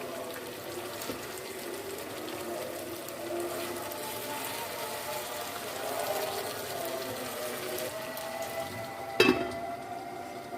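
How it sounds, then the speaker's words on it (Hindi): Fish pieces frying in a pan over normal heat, giving a steady low sizzle throughout with a brief sharp clatter near the end, no talking. "अभी हम फ़िश को एक साइड से पका लेते हैं नॉर्मल आंच पे।"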